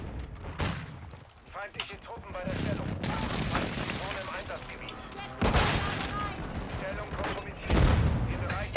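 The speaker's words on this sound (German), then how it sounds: "Oh, Luftschlag weg." Call of Duty: Modern Warfare II multiplayer match with an airstrike, bursts of gunfire and heavy booming explosions rolling over one another, loud and dense, with a player talking over the top.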